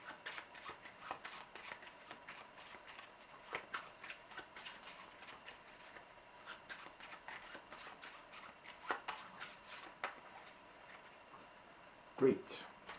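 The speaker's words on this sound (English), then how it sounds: "we'll shuffle the rest again" A deck of cards for the board game Forbidden Island is shuffled by hand, giving a series of short riffling bursts and taps at uneven intervals, fairly close, with a sharper knock near the end.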